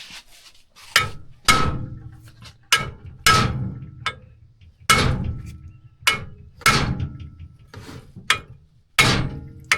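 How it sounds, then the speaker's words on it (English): Sharp metallic hammer blows strike a stuck bolt on an Oldsmobile Cutlass drivetrain repeatedly, about a dozen hits at an uneven pace, each ringing briefly before the next. "if we can't get it to move with the hammer, we'll do an air hammer"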